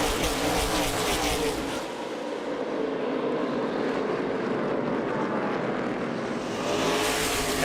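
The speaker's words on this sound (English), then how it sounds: "Green flag in the air, we're racing in Martinsville." Stock cars roaring away at the green flag at Martinsville, a dense, loud rush of engine noise that swells as the field passes close and then fades slightly, with no speech heard.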